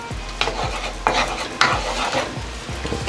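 Butter and food frying in a pan for a smoked salmon sandwich, a steady close sizzle with a few sharp scraping stirs and clinks of a utensil against the pan.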